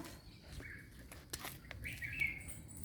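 A baby bird gives a few faint, high, thin chirps in a quiet room, spaced irregularly, with soft rustling between them.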